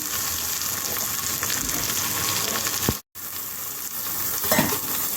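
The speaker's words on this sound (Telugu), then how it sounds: "ఇప్పుడు బీన్స్ బంగాళదుంప ముక్కలు వేస్తున్నాను" Beans and potato pieces hitting a hot pan with green chilli, a loud continuous sizzle and crackle with stirring scrapes, briefly cut off for a moment before the frying resumes.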